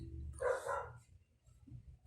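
A dog lets out a single loud bark close by, followed by quieter low background sounds.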